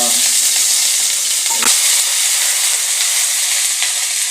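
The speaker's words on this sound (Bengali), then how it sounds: "তো তেলের মধ্যে এগুলো ভেজে নিচ্ছে ফোড়নগুলো।" Whole spices frying in hot oil in a pan give a steady, loud, close sizzle that runs unbroken throughout, with a brief clink partway through.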